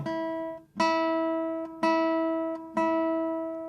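Four classical guitar notes plucked with the nail held flatter to the string, each ringing out with a warm, rounded tone and decaying slowly, spaced about a second apart with no voices.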